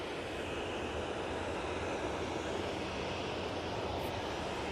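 A TUI Boeing 787-8 Dreamliner airliner roars steadily at Manchester Airport as a loud, continuous broadband engine rush with no voices.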